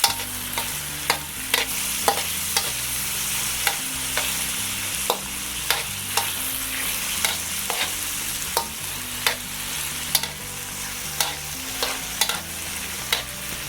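Tomatoes cooking in a pan are stirred continuously, the spoon scraping in regular strokes over a steady, loud sizzle from the frying, with no talking.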